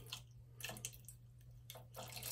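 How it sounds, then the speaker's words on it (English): Water is poured slowly into the condensate trap of a Lochinvar Knight boiler, giving a few short splashing and trickling bursts close by, with pauses between them. "slowly pouring water"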